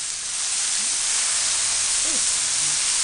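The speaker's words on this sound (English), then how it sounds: "The steam helps melt the cheese." Water hits a hot Camp Chef griddle while making a patty melt, bursting into a loud, steady broadband sizzle and hiss of steam that fills the whole stretch, close up, with a faint voice-like sound briefly underneath.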